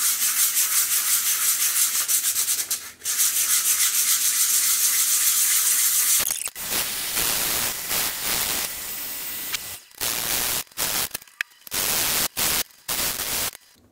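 Plaster filler is sanded smooth over a repaired wall crack, a steady close abrasive rubbing for about six seconds, then shorter scraping strokes broken by brief pauses.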